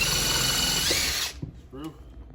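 A power drill drives a screw into a wooden bandsaw sled, whirring loudly and steadily for over a second, then stopping, followed by faint handling knocks and a brief voice.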